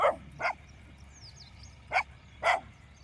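A dog barks four times in short, sharp yelps, two close together at the start and two more a moment later, fairly near.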